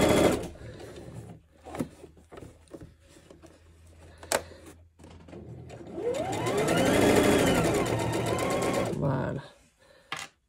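A sewing machine stitches a pair of men's boxer shorts, going back stitch into stitch over the first seam. Short quiet sounds and a voice speaking French come before a steady, louder run of machine stitching lasting a few seconds.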